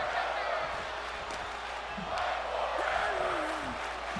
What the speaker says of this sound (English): The crowd chanting "Fight Forever."